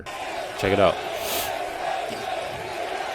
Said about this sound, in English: this is the Ryder Cup crowd in New York, and actually, went crazy for President Trump and his granddaughter.